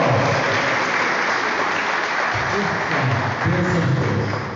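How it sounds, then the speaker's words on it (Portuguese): Church congregation applauding during a Portuguese-language worship service, a continuous dense wash of clapping that stays loud and even throughout, with low murmurs or music mixed beneath. "Palmas ao Senhor"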